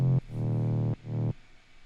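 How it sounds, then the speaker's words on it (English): Mid bass synth layer from an electronic music production, playing sustained low notes in three held phrases with brief gaps between them, fairly loud and alone with no talk. "It's just a mid bass layer that sounds like this"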